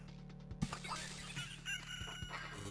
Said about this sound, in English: You hear the little rooster crow